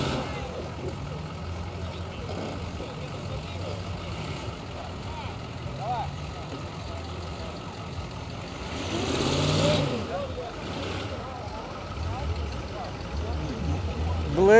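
A Dodge diesel pickup engine rumbles low and steady nearby at a jeep and 4x4 festival in Brest, swelling briefly as it revs, with people talking in the background.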